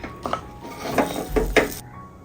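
Poori dough is moved out of a pressure cooker into another vessel with a few sharp metallic clinks and knocks of utensils against pots, close and scattered over about two seconds.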